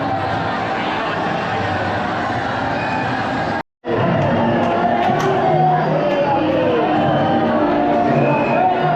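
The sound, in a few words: crowd of visitors at a temple in Vrindavan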